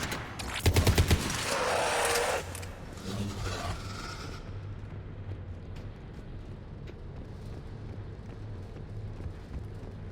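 Rapid gunfire bursts in Mass Effect 3 during the Siege of Omega, loud and dense for about two seconds with fast repeating shots, then fading into a low rumbling battle ambience with scattered faint impacts.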